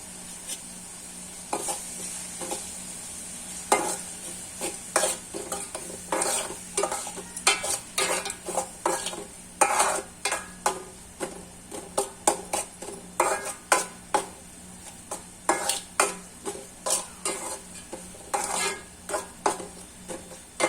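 Tomatoes cooking down in a pan, stirred with repeated scraping strokes in an irregular rhythm over a soft, steady sizzle, close and fairly quiet, with no voices.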